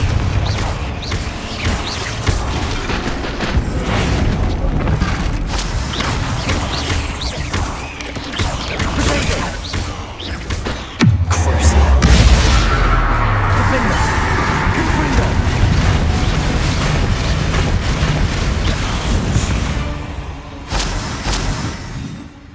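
Confringo spell blasts in Hogwarts Legacy during a dragon rescue, a dense battle mix of booms and crashes with one deep heavy impact midway, continuous and loud, with voices calling out over it.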